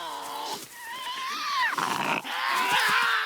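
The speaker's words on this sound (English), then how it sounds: "As the situation escalates, growling begins." A Tasmanian devil growls in a rising, harsh, strained series of snarls, close and loud, with short pauses between bursts.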